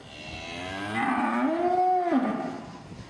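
A single long calf moo sounds close and clear, rising in pitch, holding, then falling away, with no other voices.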